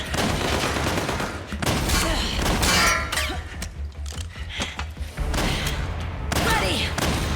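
Rapid bursts of gunfire in the Metal Gear Solid 4 video game on Extreme difficulty, loud and continuous with clanging metallic impacts between volleys and no voices.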